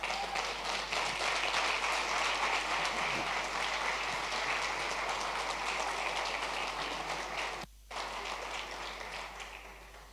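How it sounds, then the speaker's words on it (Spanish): Sustained applause from a church congregation, loud and continuous throughout, with a brief dip near the end before it carries on. "Denle un aplauso al Señor."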